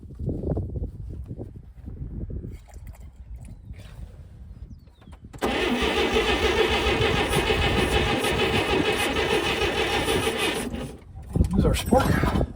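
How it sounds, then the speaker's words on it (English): Old 1959 GMC truck engine being kickstarted, with a few clunking mechanical strokes, then a loud steady mechanical churning of about five seconds before it stops, and voices talking around it. "I'm going to kickstart it."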